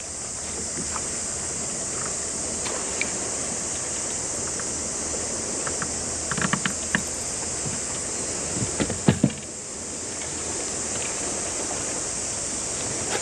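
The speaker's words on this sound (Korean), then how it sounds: "몰려온다 파도가" Sea waves rolling in beside a small fishing boat out octopus fishing in shallow water off an island, heard as a steady broad wash with a few louder knocks and splashes near the end, no talking.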